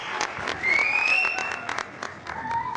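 A studio audience cheers and applauds, a dense wash of clapping with whoops and whistles rising through the middle, loud and close, as a voice calls out over the crowd.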